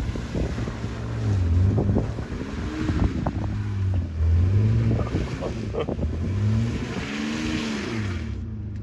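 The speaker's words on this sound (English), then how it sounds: "roasting some tires" An all-wheel-drive vehicle spins its tires in deep mud, the engine revving and wavering up and down in long surges, with wheel churn and wind buffeting on the microphone, loud and close throughout.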